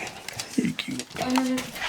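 A small dog gives a brief, thin whimpering whine inside an old inn and tavern, heard close and quiet while a person speaks over it.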